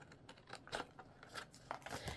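Scissors cut paper for a handmade gift box in a run of close, quiet, crisp snips spaced irregularly over a couple of seconds, with no talking.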